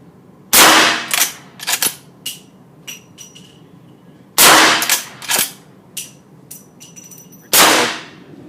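A Rossi M92 lever-action rifle firing .44 Magnum handloads with Lee 240-grain semi-wadcutter tumble-lube bullets, three loud sharp shots spaced a few seconds apart, each followed by quieter clacks of the lever cycling.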